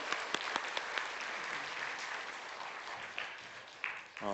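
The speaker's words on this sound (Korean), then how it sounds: "우리 한 번 더 하나님께 영광의 박수 보겠습니다" A church congregation claps during a sermon service, a soft, steady patter of applause with a few sharper claps near and some murmuring toward the end.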